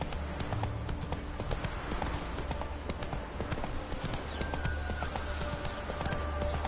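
Horse hooves clip-clopping at a steady gallop in The Witcher 3 video game, a continuous rhythmic thudding with faint game ambience and low background hum throughout.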